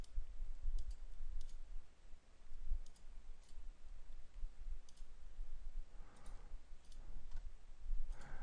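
Faint, irregular computer mouse clicks, a few quick taps at a time, against a quiet low background hum, while drafting in AutoCAD 2013.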